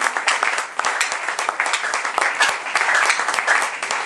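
A church congregation applauds steadily during a worship service, a dense, sustained patter of many hands clapping at fairly close range with no break.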